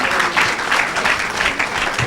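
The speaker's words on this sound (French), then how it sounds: "Put your hands together for the Lord." A church congregation applauds with steady, vigorous clapping that swells in rhythmic waves, loud and close, with voices faintly mixed in.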